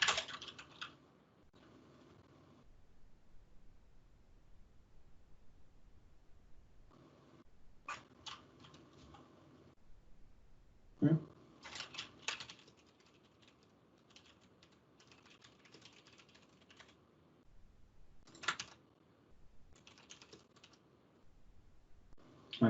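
Java code being typed on a computer keyboard, with bursts of rapid key clicks separated by pauses, close and fairly quiet.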